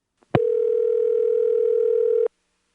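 A single steady telephone tone on a T-carrier trunk from a 1977 step-by-step exchange in Lexington, South Carolina, after invalid digits are dialed: a short click, then an unbroken clear tone held for about two seconds before cutting off cleanly.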